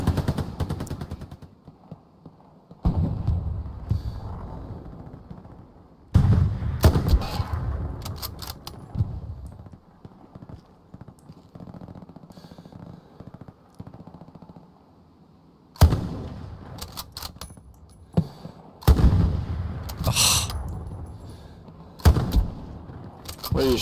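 Repeated bursts of automatic rifle and machine-gun fire in the World War II shooter Hell Let Loose on the Foy map, loud and close in several clusters separated by quieter stretches of distant battlefield noise.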